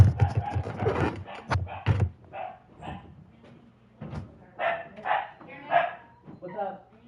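A dog indoors barks in short, sharp bursts at a stranger doing a maintenance inspection, several separate loud yaps spread across the moment, mixed with a person talking nearby.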